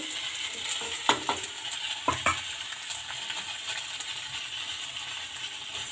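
Panch phoron spices crackle and fry in hot oil, a steady soft sizzle punctuated by a few sharp pops and clicks, close and alone with no talk.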